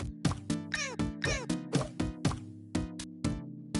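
Cartoonish cat meow sound effect from the PS5 VR game Dreams, repeating in a quick rhythmic series of short, clean, tonal meows alternating with soft thuds, close and fairly loud with no talking.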